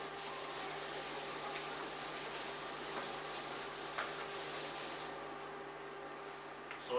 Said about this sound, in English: I will just rub the board